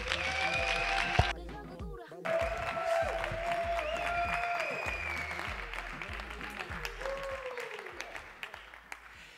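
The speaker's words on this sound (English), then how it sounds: "big applause for her." An audience at a talk event applauds as a speaker is introduced. A broad wash of clapping and crowd noise runs throughout, while music with sustained tones plays over it and fades toward the end.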